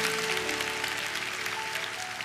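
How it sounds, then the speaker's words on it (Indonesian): A congregation claps during a church service, a dense wash of applause with a sustained musical tone underneath, continuous through the short span. "Kasih tepuk tangan Tuhan."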